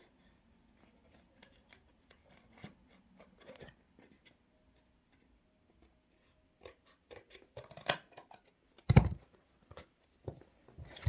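Scissors snip through cardboard while a toy gun is being cut out, giving sparse faint crunching cuts that grow busier and louder toward the end, with one sharp rasping cut standing out near the close.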